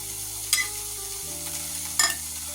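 Sautéed vegetables are tossed in a pan, a soft sizzle with two sharp scraping clatters about a second and a half apart, close and clear, under a low steady hum.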